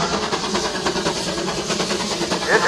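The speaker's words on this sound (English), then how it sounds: "I hear the train is coming." A train rumbles and hisses with a steady, broad roar and faint rhythmic clatter, growing slightly louder toward the end.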